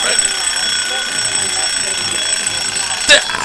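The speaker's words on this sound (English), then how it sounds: "Hey, thank you, alarm, for working." An alarm sounds with a steady high electronic tone held across the whole stretch, loud and close, with a brief bump near the end and no speech.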